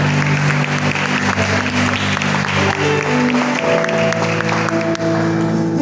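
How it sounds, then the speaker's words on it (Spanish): A church congregation applauds loudly and steadily throughout, with musical tones from an organ or keyboard sustaining underneath. "Dale un fuerte aplauso al Señor."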